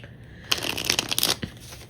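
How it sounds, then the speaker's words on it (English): Tarot cards being shuffled by hand, a short burst of rapid riffling flutters lasting under a second, followed by a brief tap as the deck settles, close and fairly quiet. "Let's do one more shuffle."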